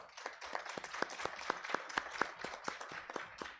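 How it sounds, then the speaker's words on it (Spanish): Clapping for a speaker at a feminist gender-violence session, a few nearby hands striking in a quick, fairly regular rhythm, distinct individual claps rather than a big crowd, fairly quiet overall. "Démosle un aplauso"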